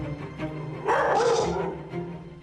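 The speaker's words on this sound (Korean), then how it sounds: "설쌤의 등장에 무섭게 짖기 시작하죠" A Jindo dog barks fiercely at a stranger: one loud, harsh bark burst rises over a low background, then fades into quieter noise.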